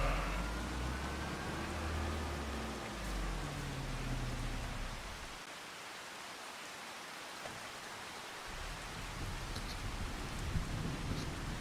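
Steady rain and low rolling thunder in Farming Simulator 25 fill the scene, with a rumble early on, a quieter lull midway, then the downpour swelling again; no one talks.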